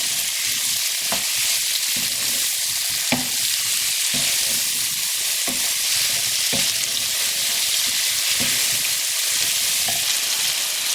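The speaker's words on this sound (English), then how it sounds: "Then add the peppers and the potatoes. Give this a good stir." Peppers and potatoes frying in a prawn bhuna curry, with a constant loud sizzle and the spatula scraping and knocking the pan at irregular intervals, close up with no talk.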